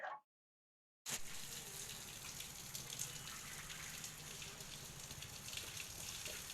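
Tap water gushes steadily through a long pipe to fill containers, close and continuous after a short silence. A brief sound comes before the pause.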